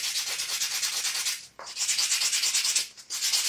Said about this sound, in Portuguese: Cortamos as laterais e agora nós vamos lixar.